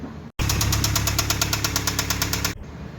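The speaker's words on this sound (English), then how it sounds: "it's got a little bit of rodknock" A Toyota pickup's 22RE engine with rod knock runs close and loud, a steady rapid knocking beating through the engine drone for about two seconds before cutting off.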